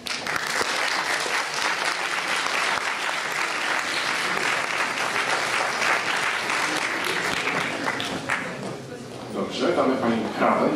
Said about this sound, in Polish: brawo do koleżanki